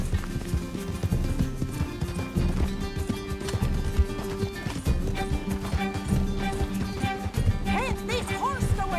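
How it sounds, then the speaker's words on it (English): Horse hooves clip-clop in a fast galloping rhythm in the Red Dead Redemption 2 video game, loud and continuous over game music and effects, with a short whinny-like sweep near the end. "Can't this horse go any faster?"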